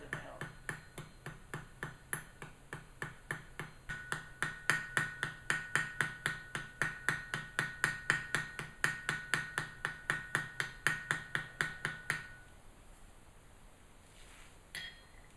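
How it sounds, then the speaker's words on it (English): A hammer lightly taps the pins of a bushcraft knife handle set on an anvil, a fast, steady run of small metallic ticks for about twelve seconds before it stops. "just tap those pins very lightly to flare them out"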